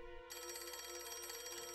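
Electronic telephone ringing in the video game Galerians, a steady, tonal trilling ring that starts abruptly and continues without a break, clear and moderately quiet.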